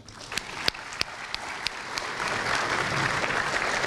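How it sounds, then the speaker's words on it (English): Applause at a career center awards ceremony: a few scattered individual claps at first, then building into a fuller, steady round of clapping from the audience, moderately quiet overall. "Let's give him one more round of applause."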